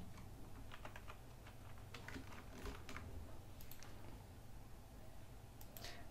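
Scattered keystrokes on a computer keyboard as text is typed in Photoshop, faint and close against a steady low hum, with irregular pauses and no speech.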